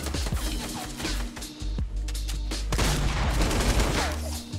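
Rapid sniper gunfire in the video game Fortnite, with sharp shots cracking over a busy, dense in-game soundscape of booms and steady background rumble, loud throughout.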